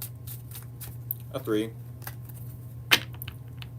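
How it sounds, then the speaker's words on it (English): A tarot card deck gets a bridge shuffle, cards riffling in a short ruffling burst and then snapping together, surrounded by a few soft taps and a steady low hum, with a voice counting beside them. "A quick bridge shuffle and cut the deck."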